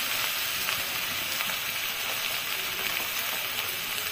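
Taro stolons (kochur loti) frying in a pan, giving a dense, steady, close sizzle that hisses evenly throughout without a break and with no talking.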